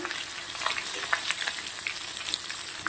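Mustard seeds and spices sizzle in hot oil in a pan, a soft continuous fry dotted with small scattered pops and crackles.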